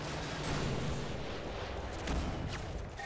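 Gunfire and heavy, artillery-like blasts from the video game Modern Warfare 2 rumble continuously at a low, quiet level for a few seconds.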